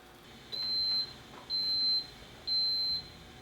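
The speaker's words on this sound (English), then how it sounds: "my waffle iron has an indicator that will beep" A waffle iron's ready indicator beeps three times in an even rhythm, each long steady electronic tone lasting about half a second, clear and close over a quiet kitchen hum.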